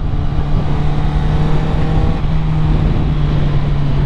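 A Honda CBR 650R motorcycle from 2021, fitted with an Akrapovic exhaust and dB killer, rides at steady speed. The engine holds a loud, even drone with continuous wind rush close to the helmet microphone.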